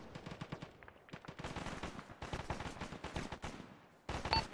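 Rapid bursts of automatic gunfire crackle through a jungle combat video game battle, dense overlapping shots in quick rhythmic volleys, fairly faint overall, with a louder burst and a brief tone near the end.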